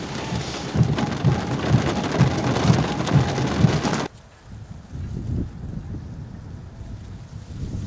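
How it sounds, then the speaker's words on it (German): Hail pours down hard during a supercell thunderstorm in Styria, a dense, loud drumming on a nearby surface that suddenly drops to a lighter, steady patter of falling stones once the gusts die. "Nachdem der erste Schwall Hagel mit kräftigen Böen vom Himmel kam, fällt er zum Schluss bei Windstille fast senkrecht vom Himmel."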